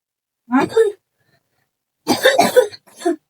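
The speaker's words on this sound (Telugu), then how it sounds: "దగ్గు వచ్చేస్తుందిరా." Two bursts of coughing close to the microphone, a short one first and then a longer fit of several harsh coughs after a pause.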